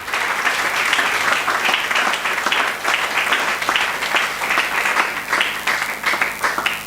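A church congregation bursts into sustained applause, many hands clapping together in a dense, lively wash that swells and dips in waves without letting up.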